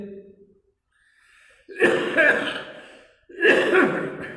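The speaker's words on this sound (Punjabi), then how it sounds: "ਮਾਫ ਕਰਨਾ, ਇੱਕ ਤਾਂ ਖੰਘ ਹੈ" Two loud, harsh coughing bursts from an elderly, unwell person, each lasting over a second, separated by a brief pause, close to the listener, with a faint voice before them.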